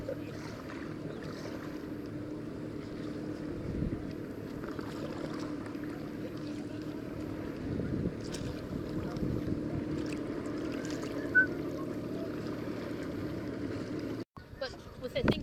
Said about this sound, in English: There, I'm paddling